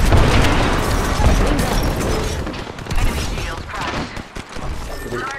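Grenades explode in a multiplayer shooter game: loud, rumbling blasts and bursts overlap in a dense, chaotic barrage, with a few sharper booms standing out, and players shout over the noise.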